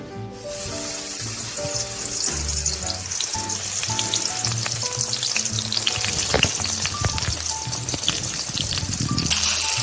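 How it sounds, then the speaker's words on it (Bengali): Loud, continuous sizzling of eggplant slices frying in hot oil, crackling steadily throughout with no talking. "এরপর আমি দু পিঠ লাল লাল করে একে একে সব ভেজে নেবো"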